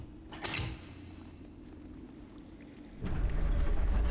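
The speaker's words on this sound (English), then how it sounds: "doors open" Heavy doors grinding open in the game Castlevania: Lords of Shadow, a low rumbling scrape that swells into a loud, sustained rolling rumble near the end.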